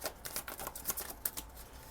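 Quiet, rapid riffling of tarot cards being shuffled, a series of soft papery flicks and taps in uneven bursts with no talking.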